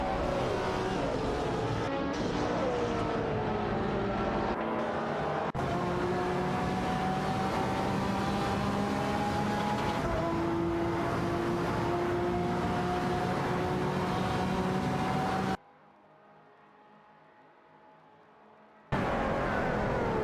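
A Lamborghini Reventon and a McLaren race in a racing game, giving a steady, loud engine drone with rising and falling revs and whine. The sound cuts out briefly near the end, then returns.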